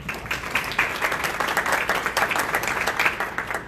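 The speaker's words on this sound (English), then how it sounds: "You can give them a round of applause for that too." Audience applause at an investor meeting, steady dense clapping from a crowd held at an even level throughout, with no speech over it.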